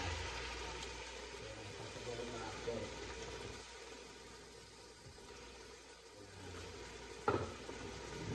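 Fish sauce sizzling in a hot pan before a kilo of shrimp goes in, a steady low frying hiss throughout with a brief sharper crackle near the end.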